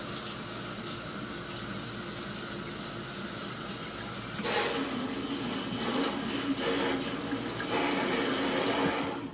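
Tap water runs through a countertop water filter diverter: a steady hiss of flowing water that turns into a louder, splashier gush about halfway through, then continues close and strong.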